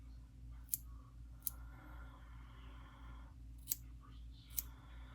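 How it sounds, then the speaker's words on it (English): Scissors snip through a reborn doll's hair up close, four sharp separate cuts spaced across a quiet stretch with faint rustling between them. "We're just going to cut this hair off."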